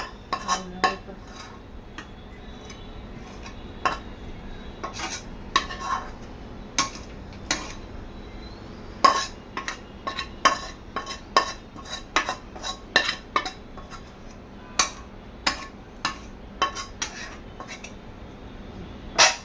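Metal spoon repeatedly scraping and tapping coconut barfi (naralachi vadi) mixture out of a pan, sharp close clinks in an irregular rhythm over faint background noise.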